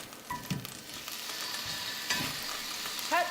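Halved onions placed cut side down into a hot pan for a pot roast, giving a steady sizzle and crackle with a few soft clatters, fairly close and without talk.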